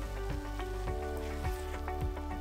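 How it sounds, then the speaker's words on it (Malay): Roti canai frying in a thick pan, a steady close sizzle with occasional sharper pops and crackles running throughout, no voices. "Sambung goreng."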